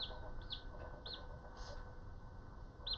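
Chickens and a cockerel give short, high clucks and squawks at intervals, fairly faint against a low steady background hum.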